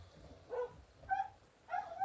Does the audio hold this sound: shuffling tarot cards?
no